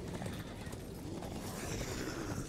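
Hooves clip-clop in a quick, steady rhythm, a horse galloping in the video game Darksiders under a constant noisy wash, without voices.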